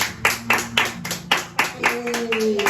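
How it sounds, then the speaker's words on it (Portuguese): A church congregation claps for Jesus in a morning service, with a rhythmic series of strong, evenly spaced claps under a faint sustained tone, with no talk over it. "Vamos aplaudir o Senhor Jesus nessa manhã?"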